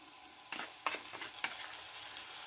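Garlic paste frying in a pan for a duck egg do-pyaza gives a quiet, steady sizzle broken by a few sharp scraping stirs near the start, heard close with no voices.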